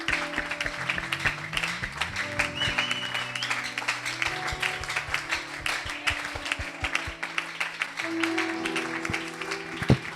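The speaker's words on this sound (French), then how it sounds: "Et nous t'offrons une bonne offrande d'acclamation." Applause in a church service as the congregation claps with many sharp hand strikes, a steady crackle that runs under sustained keyboard or organ chords throughout.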